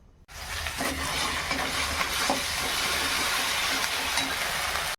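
Fish frying in oil in a wok with nigella seeds and spices, a sudden onset of steady hissing sizzle that holds evenly for several seconds and then cuts off, close and moderately loud, no voices.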